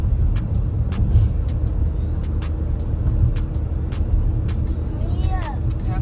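Steady low rumble of a new car being driven, a continuous engine and road drone from inside the cabin with a few light clicks and voices faintly present.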